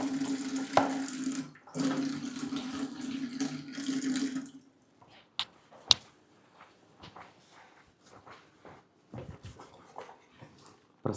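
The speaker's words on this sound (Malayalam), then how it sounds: "ഇച്ചിരി വെള്ളം തട്ടുന്നു." A little water is poured, giving a splashy, running rush for about four seconds, followed by quieter scattered clatter and handling sounds.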